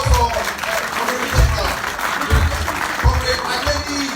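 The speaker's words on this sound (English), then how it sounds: "a round of applause" Audience applause at an International Youth Day event hosted by the Ooni in Nigeria: dense, steady clapping from a large crowd that fills the whole stretch, with voices mixed in underneath.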